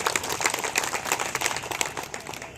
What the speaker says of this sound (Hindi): तालियां थोड़ी कम बजी।